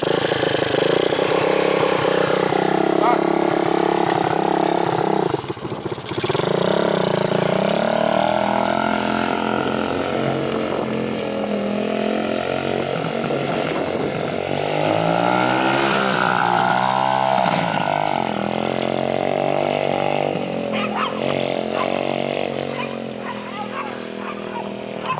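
Small minibike engine running steadily and loudly throughout, with a brief dip near the start and uneven revving as the choke is on, close to the microphone.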